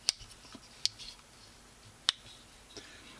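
A pocket knife with a half stop blade is worked open and shut, giving a few sharp, crisp snaps and clicks, close but fairly quiet, spread irregularly over a few seconds.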